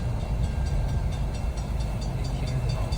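A train rumbles past nearby with a steady low roar and faint rhythmic clacking, heard as a continuous noise bed lasting the whole few seconds with no talking.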